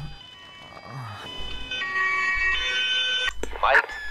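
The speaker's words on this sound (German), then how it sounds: "Und zwar habe ich das Martinshorn von einigen Fahrzeugen angepasst." An emergency vehicle's Martinshorn siren wails in a firefighting video game set in Gelsenkirchen, rising to a louder tonal blast near the end over faint background activity.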